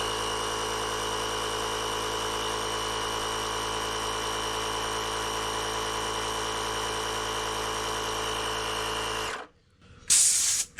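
A Vic Offroad combination jump starter and air compressor inflating a bike tyre, a steady loud motor drone with a constant buzzing hum that runs unbroken for about nine seconds, then cuts off abruptly, followed by a brief hiss.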